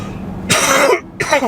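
Two short, harsh coughs close to the microphone, separated by a brief pause, against quiet background.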